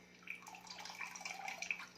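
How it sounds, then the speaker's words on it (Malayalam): Water dripping and trickling steadily as fresh homemade paneer curds are squeezed by hand, a soft continuous patter of droplets with no voices. "പിഴിഞ്ഞ് ഇതിലെ വെള്ളം എല്ലാം കളയണം"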